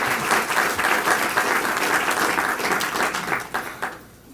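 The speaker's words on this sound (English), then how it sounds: "I would just like to thank those 4 people with a round of applause right now." Sustained applause from an audience at an award ceremony, a dense, steady wash of many hands clapping that holds for several seconds and then thins and fades at the end.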